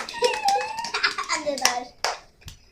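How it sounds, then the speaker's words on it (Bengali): A small group of children clapping their hands at a paratha-frying competition, scattered uneven claps close by, mixed with children's voices and chatter, then a couple of isolated claps trailing off. "সবাই একটা হাততালি দাও"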